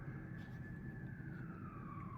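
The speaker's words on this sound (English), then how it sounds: "So now I hear the sirens, right?" An emergency siren wails outside, faint and distant, a single steady tone sliding slowly downward under a low background rumble.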